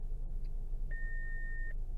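A single electronic warning beep from an Infiniti QX55, steady and clear, rings out for nearly a second over a low rumbling engine idle.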